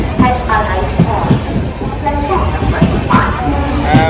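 A train stands at a railway station amid a bustling crowd, its low rumble and rhythmic clanks running beneath loud nearby chatter of people talking.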